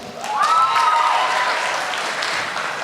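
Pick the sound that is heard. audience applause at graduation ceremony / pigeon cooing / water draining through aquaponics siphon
audience applause at graduation ceremony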